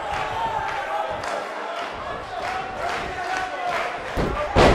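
At a wrestling match, a capacity crowd roars and cheers continuously, swelling in waves with scattered shouts and a louder burst near the end.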